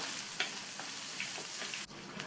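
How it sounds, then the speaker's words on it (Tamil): Finely chopped onion and green chilies sauté in a pan with a steady, moderately quiet sizzle. A few light spatula taps and scrapes punctuate the hiss, and there is no talking. "1/4 கப் அளவுக்கு பொடியாக கட் பண்ண வெங்காயத்தை சேர்த்துட்டு லைட்டாக வதக்கி விட்டால் போதும்"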